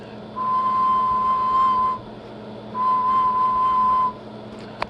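Whistling fed into a Johnson 500 radio transmitter comes through as two steady, even tones of about a second and a half each, separated by a brief gap over a constant hum.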